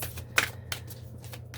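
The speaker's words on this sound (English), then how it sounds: "Let me shuffle my cards." Tarot cards from a Starman Tarot deck being shuffled close by, with quick papery riffles and flicks repeating in a steady rhythm over a low hum.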